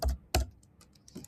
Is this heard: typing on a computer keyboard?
yes